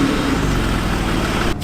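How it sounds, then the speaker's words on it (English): A Porsche 911 997 flat-six engine starts and idles with a steady low rumble for a moment, loud and close, then cuts briefly at the end. "Let's start the engine first."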